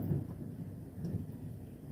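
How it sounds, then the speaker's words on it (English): A thunderstorm rumbles outside during rain, a steady low roar with soft swells of distant thunder running through the whole stretch, heard from indoors with no one talking. "Can you hear the storm that's going on right now?"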